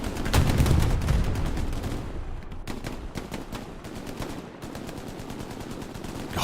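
Dense, loud gunfire and a rocket blast in the Hell Let Loose World War II shooter on the Carentan map, rapid automatic bursts rattling continuously over a rumbling battlefield bed.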